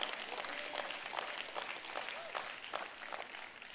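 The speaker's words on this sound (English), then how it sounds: "If you're going to clap, clap." A church congregation claps continuously, dense and steady, with a voice faintly audible beneath the applause.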